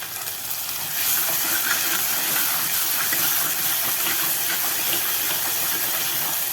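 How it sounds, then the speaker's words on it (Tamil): Tomatoes with salt sautéing in a pan for prawn kuzhambu give a steady, loud broadband sizzle and hiss that swells after the first second and holds evenly throughout, with no voices. "இந்த தக்காளியும் கொஞ்சம் வதங்கட்டும்."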